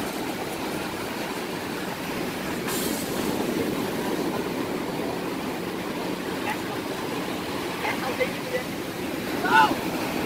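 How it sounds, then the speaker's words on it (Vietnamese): Strong sea waves break on the shore at Vung Tau during beach net fishing, a steady loud roaring surf that fills the whole stretch without letting up. "Sóng đánh mạnh đó."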